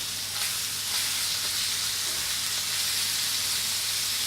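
Pork chops sear in a very hot pan, giving an even, steady hiss and sizzle that stays loud and close for the whole stretch, with no voices.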